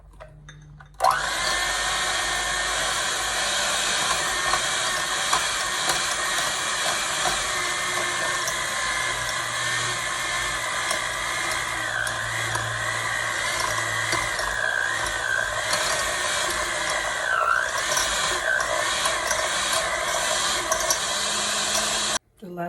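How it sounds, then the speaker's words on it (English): A hand mixer whirs continuously for over twenty seconds, beating a batter of semolina, cornstarch and egg for Turkish tulumba, a close, steady motor whine with slight shifts in pitch as it works through the mixture. "start mixing it with a hand mixer"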